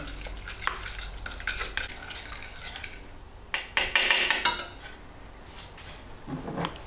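Italian seasoning is mixed into a chicken marinade in a bowl, heard as quick repeated scraping and clinking of a utensil against the bowl in short bursts, close and fairly quiet with brief pauses between.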